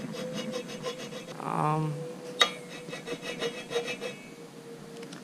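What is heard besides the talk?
filing scrap metal with a file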